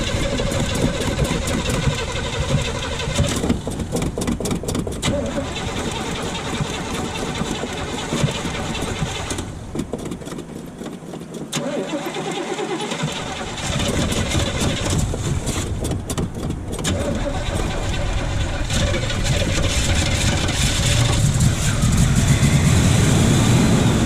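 A 1979 Chevy C10 with a 454 big-block V8, started after sitting for five years, cranks and then runs with a loud, rough rumble that settles into a steady, close idle, with a brief dip before revving back up.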